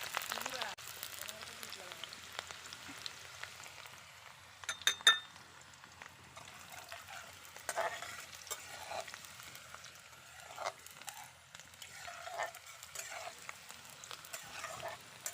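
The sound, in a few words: onions frying in hot oil in a pan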